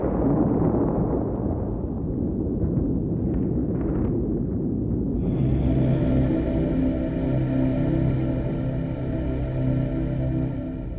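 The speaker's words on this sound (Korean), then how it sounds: "백두산이 폭발한 것입니다." Documentary sound effect of Baekdu Mountain erupting, a loud continuous roaring rumble with bursts, shifting midway into a droning, tonal roar that holds steady to the end.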